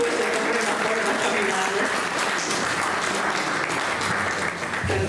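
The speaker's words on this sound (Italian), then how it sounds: "Un applauso di incoraggiamento a Lucia" Steady, dense applause from an audience at a poetry competition, loud and continuous throughout with a faint whistle or voice briefly rising above the clapping.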